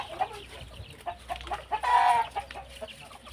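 A hen clucks softly in short, scattered calls amid a quiet rural outdoor background, with one slightly louder cluck in the middle, her chicks nearby.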